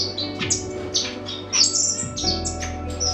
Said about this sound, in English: Java finches, Java sparrows,